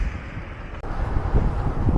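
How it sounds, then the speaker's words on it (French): Steady headwind buffeting a cyclist riding toward the Gorges de Galamus, a dense roaring rush of air on the microphone that briefly drops out, then returns strong and gusty, with no voices. "J'ai un vent de face."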